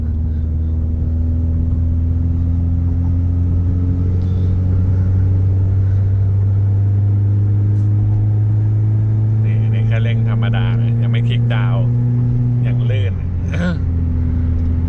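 A remapped stock Toyota Yaris 1.5 engine with only an ECU tune and a fabric air filter idles steadily, then revs loudly for a few seconds near the end before settling again, with someone talking over it.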